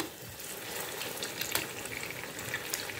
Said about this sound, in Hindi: दोनों साइड अच्छी तरह से क्रिस्पी होने तक फ्राई कर लेती हूँ